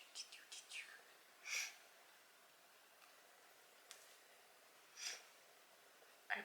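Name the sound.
sniffling from allergies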